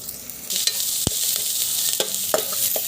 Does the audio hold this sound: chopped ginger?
yes